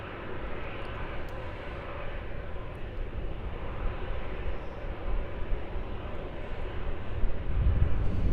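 A Saab 340 turboprop arriving from Mount Gambier lands at Melbourne Airport, its engine drone a steady broad roar that swells slightly toward the end.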